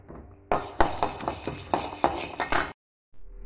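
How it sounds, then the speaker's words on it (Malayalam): Chana dal stirred in a hot iron kadai gives a quick series of loud scraping clinks and rattles, roughly a dozen metallic strokes, before stopping abruptly. "ഇനി ചീനച്ചട്ടിയിലേക്ക് ഞാൻ കടലൊന്ന് ചൂടാക്കി എടുക്കട്ടെ."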